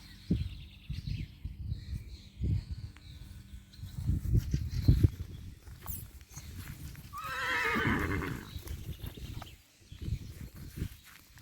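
A mare gives a loud, wavering whinny in the middle, surrounded by scattered hoof thuds, shuffling and faint bird chirps nearby.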